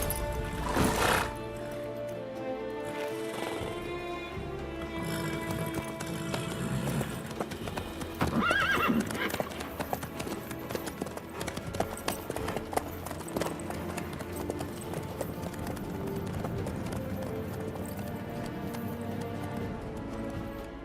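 A horse in The Witcher 3: Wild Hunt gallops with steady rapid hoofbeats through most of the scene, whinnying loudly near the start and mid-way over a backdrop of game music.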